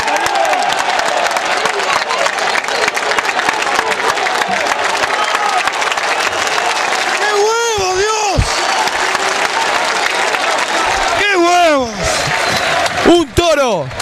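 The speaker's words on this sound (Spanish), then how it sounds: "señores. ¡Aplausos!" Stadium crowd applauding and cheering at a football match between El Toro Manzanares and Los Andes, a dense roar of clapping running throughout while a commentator's voice rises over it in bursts.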